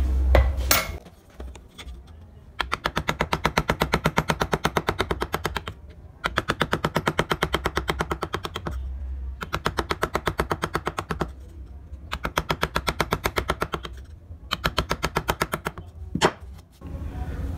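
Wood carved with a chisel, struck in rapid, evenly spaced mallet taps that run in five or six bursts of a few seconds each, sharp and close, with short pauses between.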